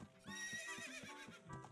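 A horse in a stable in the video game Ocarina of Time gives a bright whinny with a few soft hoof clops mixed in, brief and moderately loud with no talk.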